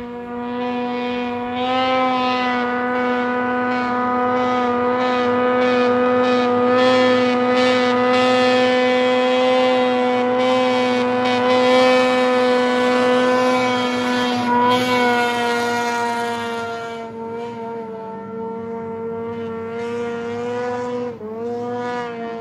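Snowmobile engine at a post-flood snowmobile skip race, droning loudly and steadily with a strong tonal whine, holding pitch for a long stretch before easing off and wavering near the end.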